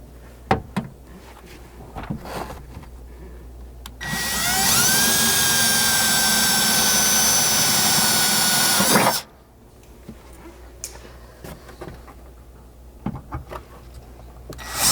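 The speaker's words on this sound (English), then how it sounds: "take that same pilot drill and just bore all four of those all the way through" A pilot drill boring holes through the rear window sheet metal of a 3rd Gen 4Runner during a MOLLE panel install: one loud, steady high-pitched whine lasting about five seconds, with a falling tone near the end, framed by quieter handling clicks.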